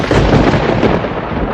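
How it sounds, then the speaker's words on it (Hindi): A loud, dense rumble of thunder from an unseasonal rainstorm rolls on without a break and stops abruptly. "ये बिना मौसम की गरजती हुई बारिश हमें क्या संकेत देती है?"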